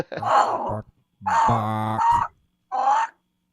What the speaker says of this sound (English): Oh, that's not a chicken. That's a cock.